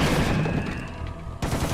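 A Tommy gun fires in a video game as a dense, continuous stream of close, loud shots that cuts off abruptly and then resumes.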